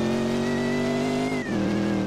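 A BMW M3 driving fast, its engine holding a loud, steady drone close by with a brief dip in pitch as it shifts.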